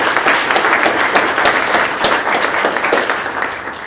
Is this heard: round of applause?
yes